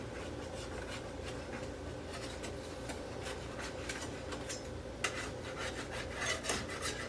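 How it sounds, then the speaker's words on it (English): A spatula scrapes steadily around the sides of a pan of baked strawberry bread, a continuous close rasping rub with small ticks and knocks throughout. "I'm gonna go ahead and take my handy dandy spatula here and run it down the sides"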